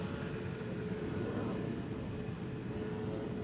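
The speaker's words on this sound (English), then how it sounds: "Those are 3 wide bodies coming in right now" A wide-body airliner arriving on the Polderbaan runway at Schiphol, a faint, distant steady jet rumble and whine over outdoor background noise.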